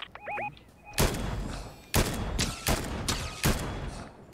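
Gunfire in the Fortnite video game, a handful of loud sharp shots spaced about a second apart, preceded by brief chirping game tones.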